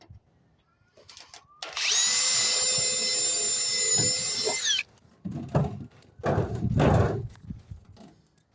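A power tool whines loudly and steadily for about three seconds while a rivet is set in a new downpipe under a boxed eave, followed by short clunks and rattling handling noises.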